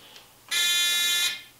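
A continuity tester gives one steady, loud electronic beep lasting under a second while checking the grounding wire on a dust collector's static dissipation system, with quiet background before and after.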